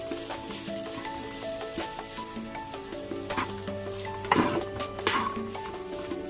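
A spoon stirs frying fish pieces in a pan over a steady oil sizzle, with occasional louder scrapes and clinks of utensil against the pan, close and continuous.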